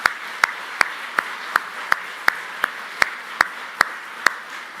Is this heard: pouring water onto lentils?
no